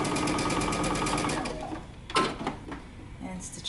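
A sewing machine runs across the bottom edge of a Simplicity 8084 dress in a fast close whir, then stops with a few clicks and handling knocks.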